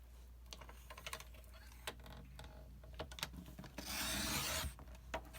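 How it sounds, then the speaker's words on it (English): Paper being cut for an art journal on a crafting surface, heard as soft, close scraping and tapping clicks followed by a longer rasping slide of the blade, fairly faint and without talking. "So I'm actually going to cut it down 6 inches this way first."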